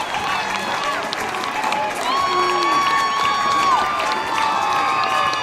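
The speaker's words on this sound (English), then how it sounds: "you hear the crowd loving it" A ballpark crowd at an American Legion state tournament baseball game cheers and applauds steadily after a home run, with whistles and shouts rising over a continuous roar close to the microphone.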